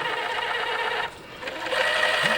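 A cheap RC crawler fitted with an Injora MB100 ESC crawls slowly, its electric motor giving a steady, quiet whine that briefly dips and then returns slightly stronger.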